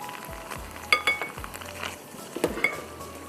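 Tomato puree and white cumin sizzle in a pan, a soft steady fry broken by a few light clinks and scrapes of a spoon against the pan.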